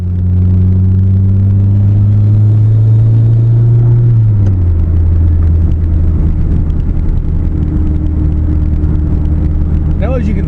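Car on a test drive, heard from inside as a loud steady engine and road rumble whose pitch drops partway through as the engine eases off.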